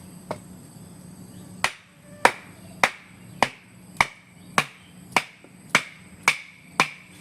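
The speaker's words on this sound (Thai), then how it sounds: "ใช้ไม้รองตอกท่อนำเหมือนเดิมนะครับ" Sharp wooden knocks from a wooden block strike a guide pipe being driven into soil roughly every half second, about ten blows in a steady rhythm, close and clear against a quiet background.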